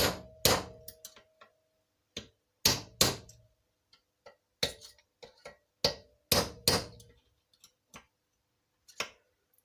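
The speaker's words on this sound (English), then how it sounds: "there's a little gap in between the bushes, so you can get in with the drift and hold it in a vise" A hammer strikes a drift on Showa damper bushes held in a vise, sharp metallic blows landing in close pairs and small clusters with silent gaps, near and clear.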